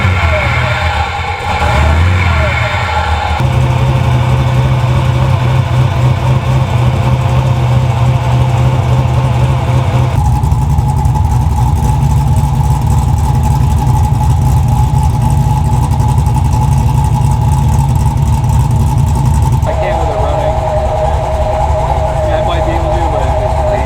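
A drag-race streetcar engine, a roller being built into an 8-second car, fires up after repair, then idles with a steady, loud rumble and revs up and back down several times. Voices can be heard in the background.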